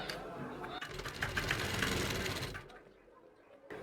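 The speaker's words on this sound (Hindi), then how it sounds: "और इस कपड़े की किनार पर यानी अंदर वाली साइड में सिलाई लगानी है।" A sewing machine stitches the inner folded hem of a Patiala dhoti salwar fabric in a steady, close buzzing run for about two and a half seconds, then stops, leaving a quieter room.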